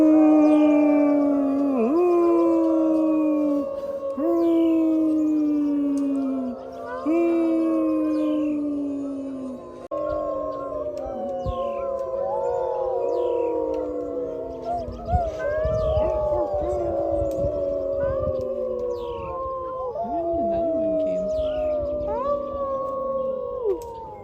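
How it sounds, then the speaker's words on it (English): A wolf pack howls at a wolf park, several long sliding overlapping howls rising and falling in chorus, close and loud, with faint crowd noise underneath later on. "That was a great howl from our wolf pack."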